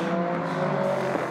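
A race car engine howls at the 2016 6 Hours of Spa-Francorchamps WEC endurance race, a loud, steady tonal drone that shifts pitch slightly as it holds throughout.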